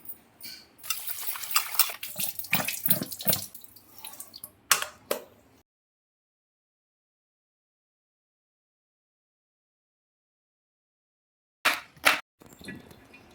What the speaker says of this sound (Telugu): బెండకాయలో ఉప్పు వేసుకొని బాగా కడుక్కుందాం.